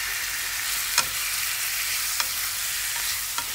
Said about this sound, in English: Tapos, mix together.